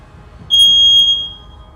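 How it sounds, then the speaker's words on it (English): A home smoke alarm gives a single loud, piercing electronic beep lasting under a second, then stops, leaving a quiet room with no talking. "Sorry if you just heard loud beeping there."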